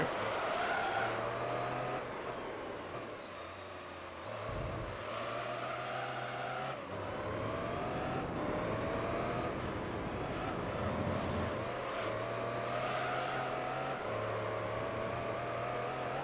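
Engine note of a Pagani Zonda race car in Gran Turismo 3, loud and continuous, dipping and rising with several gear changes and lifts of the throttle, with a brief skid-like scrape midway.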